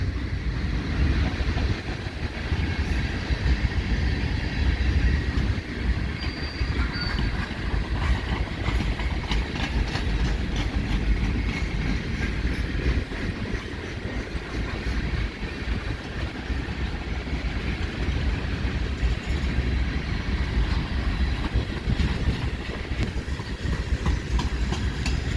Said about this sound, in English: This train's going a bit slow.